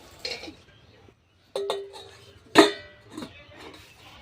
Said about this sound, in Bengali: আমি এই থালাটা বসিয়ে দিচ্ছি এই স্ট্যান্ডের মধ্যে